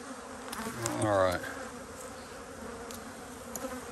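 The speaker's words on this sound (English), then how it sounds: "It's like a lot of bees down there." Bees at the Elm Grove apiary drone steadily around their hives in a close, continuous buzz, swelling louder for a moment before settling back to an even hum.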